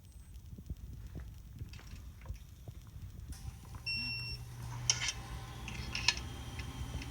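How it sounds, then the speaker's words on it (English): A digital torque wrench gives a few short, high electronic beeps midway through, heard faintly over low background noise and scattered clicks, during work on a Husqvarna 372XP chainsaw muffler. "I have a digital torque wrench."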